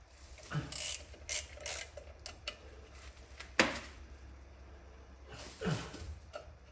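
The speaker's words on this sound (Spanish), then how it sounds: "ya puedo soltar estos tornillos de aquí del embrague. Los voy a soltar en cruz" Clutch bolts being loosened on a Citroen C4 1.6 HDi, with sharp ratchet clicks and metallic clanks coming in short irregular bursts close by over quiet workshop background.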